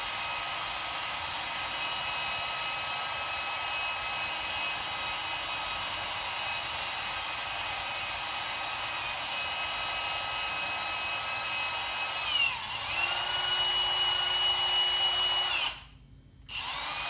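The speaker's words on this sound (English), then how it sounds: "I'm gonna use this wire wheel to clean it up a bit with the drill" Milwaukee M18 Fuel cordless drill spinning a wire wheel to clean a part: a steady high whine with a brief pitch dip and change partway through, then a short cutoff and restart near the end.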